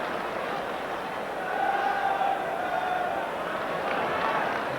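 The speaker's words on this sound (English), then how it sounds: "It's the best crowd of the season at the Dell" A packed football crowd roars at the Dell for Southampton against Liverpool in 1983, a dense continuous wash of voices swelling briefly, heard under a match commentator's talking.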